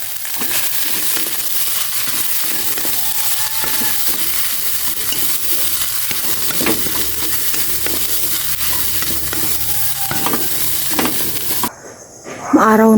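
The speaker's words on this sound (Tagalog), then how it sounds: "Mag-fried rice naman na ako. Nag-isa ko na ang bawang." Garlic and rice frying and being stirred in a pan for fried rice, a steady loud sizzle with scraping stir strokes throughout, cut by a brief change near the end.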